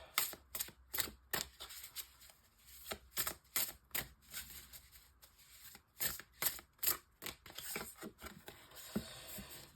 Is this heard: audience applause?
no